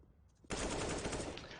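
Sustained automatic gunfire in a Counter-Strike style competitive match, bursting in loud and close after a quiet half-second and continuing as a dense, unbroken rattle to the end.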